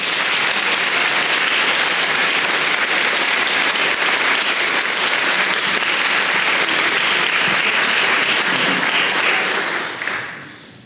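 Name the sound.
applause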